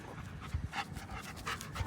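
A German Shepherd pants close by in quick, rhythmic breaths, soft and fairly faint, with a few heavier huffs mixed in.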